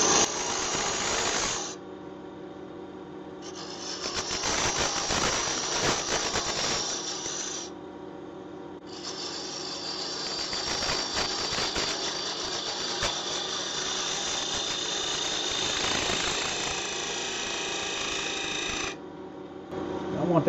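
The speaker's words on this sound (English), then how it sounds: "we can use a detail gouge or we can use a bowl gouge for the outside here" Wood lathe turning a black limba cross-grain box with a detail or bowl gouge: a steady close whir with scraping cutting bursts that stop and restart in several long passes.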